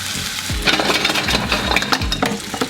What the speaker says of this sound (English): now we're gonna lay a sheet of the steak down, just like so.